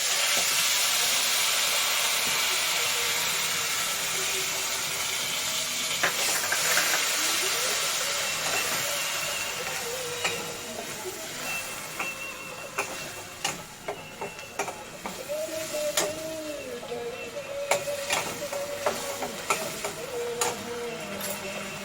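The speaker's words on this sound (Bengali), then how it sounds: "এখন দিচ্ছি পেঁয়াজের পেস্ট।" Onion paste sizzles and hisses steadily in hot oil, a dense, close frying noise with scattered pops and spoon clinks, with faint background sounds.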